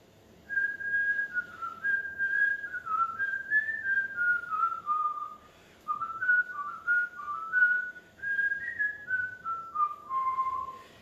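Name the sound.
whistling a melody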